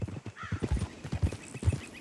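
Horse hooves clip-clop in a steady, close rhythm across a dirt trail in Red Dead Redemption 2, with brief snorts mixed among the hoofbeats and no talking.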